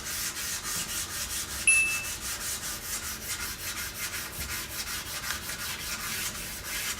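Steady back-and-forth scratching of sandpaper against a hard lacquered surface, regular quick strokes repeating close up with no voices.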